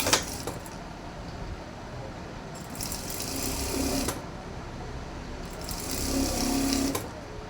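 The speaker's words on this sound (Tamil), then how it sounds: "வெட்டிட்டு கீழே மடித்து ஒரு தையல் போட்டுக்கிறேன்" Close sewing machine running a seam along the folded-under neck edge of a blouse, its motor humming in continuous stretches that swell and slow between runs.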